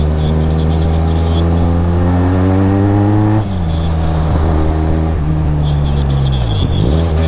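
Benelli Leoncino 800 triple-cylinder motorcycle engine revving nearby, a loud steady harmonic drone that drops in pitch midway, then holds and rises again, with no voices over it.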